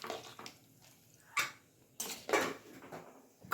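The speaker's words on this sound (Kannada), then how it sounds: "ಕುಕ್ಕರ್ ಮುಚ್ಚಳ ಮುಚ್ಚಾಯಿತು," A pressure cooker lid for soya biryani is fitted and closed with a few sharp metallic clanks and clicks between quiet pauses, close up and fairly soft.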